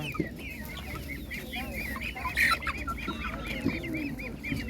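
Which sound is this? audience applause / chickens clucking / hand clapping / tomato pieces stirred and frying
chickens clucking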